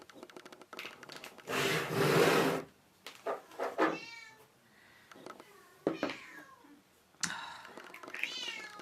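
A cat meows several times, some calls drawn out and wavering, others short, close by with brief noisy bursts in between.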